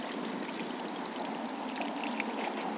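Water rushes steadily through a clogged Sears Kenmore dishwasher drain hose as it is flushed, a constant close gushing that stays even throughout.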